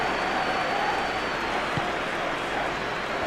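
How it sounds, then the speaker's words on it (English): Stadium crowd noise from a PES 21 football simulation of an FA Cup match between Newcastle United and Manchester City, a steady loud roar of cheering and applause filling the whole stretch. "but it certainly got the crowd going."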